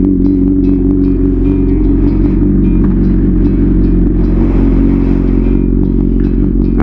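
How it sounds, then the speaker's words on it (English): A retuned Honda CB1000R motorcycle engine runs loud and close with a steady, rumbling exhaust note and slight rev swells, no talk. "I do a rev when I get out of the neighborhood."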